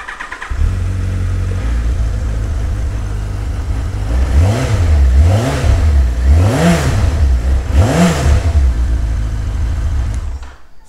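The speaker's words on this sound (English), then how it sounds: "Super smooth four-cylinder engine on these." A 2017 Yamaha XJR1300 four-cylinder motorcycle engine starts and settles into a smooth idle, then revs up and down four times in a steady, even rhythm before cutting off.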